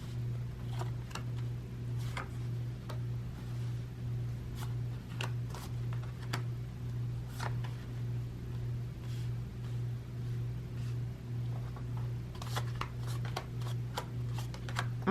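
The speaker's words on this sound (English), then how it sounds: "I'm going to shuffle this some more." A tarot card deck is shuffled in quiet, repeated riffles and soft flicks, scattered crisp bursts over a low steady electrical hum.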